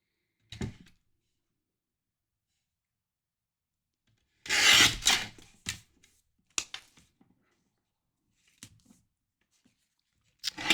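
Paper card pieces trimmed during a Stampin' Up! card-making session, heard as a few short rustling cuts and rubs, one louder burst of scraping in the middle and scattered faint taps, close and quiet with no talk.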